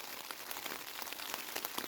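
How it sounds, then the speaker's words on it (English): Rain patters steadily on a tent in the Norwegian wilderness, a dense, even hiss of drops striking the fabric at close range, fairly faint and continuous with no voices. "it's still raining"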